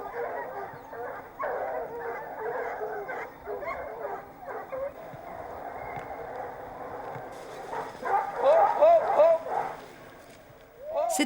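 Hunting hounds baying and yelping during a stag hunt with hounds, irregular bursts of barking at a distance with a denser flurry of cries near the end, under someone narrating.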